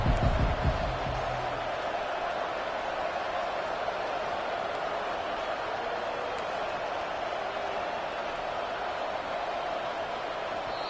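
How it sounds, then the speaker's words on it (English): A stadium crowd roars steadily at a Georgia Tech versus SMU football game, a loud, sustained wall of noise that holds without a break, with a few thumps at the very start. "And with this place rocking, the crowd forces a false start."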